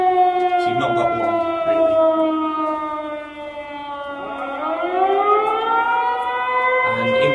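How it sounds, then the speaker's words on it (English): A loud civil defence air raid siren sounds at a bunker heritage day, its layered tones dipping in pitch midway and then climbing again as one sustained wail with no talking. "The air raid siren has gone off"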